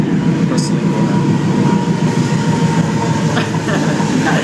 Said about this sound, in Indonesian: Ada kereta.